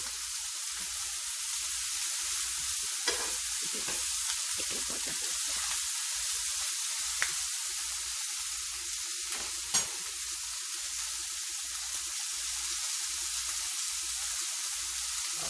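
Food stirred and sizzling in a pan, a constant close hiss of frying with occasional scrapes and knocks from the utensil, no talking.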